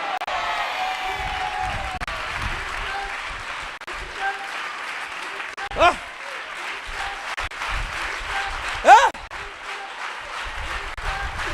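A church congregation at an Assemblies of God service applauds in a steady, full wash of clapping that swells in bursts, with voices talking over it.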